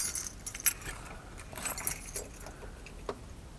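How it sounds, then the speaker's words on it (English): Keys for a 1969 Datsun 521 pickup jangle and clink in several short metallic bursts, close by and fairly quiet, with small rattles scattered across a few seconds and no talking. "Get the keys for this thing."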